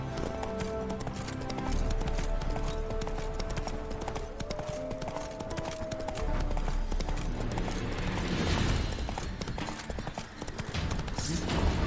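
A horse's hooves clip-clop at a steady trotting rhythm in The Witcher 3, the even beat continuing for the whole stretch over soft game music.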